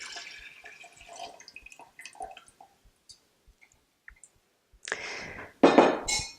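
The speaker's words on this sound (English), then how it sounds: "now I take the sugar water and pour it over the grains." Sugar water poured over kefir grains in a glass cup: soft drips and small clinks of glass at first, then two louder bursts of pouring liquid near the end.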